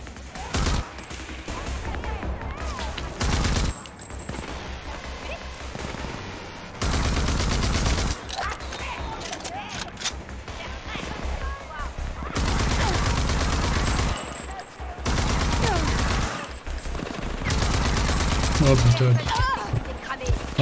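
Gunfire from weapons in the video game Rage 2 comes in long, loud blocks of rapid automatic fire broken by short pauses, with someone talking in between.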